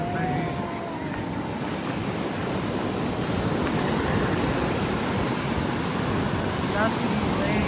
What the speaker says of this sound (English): Y'all see these waves? They almost knocked us over.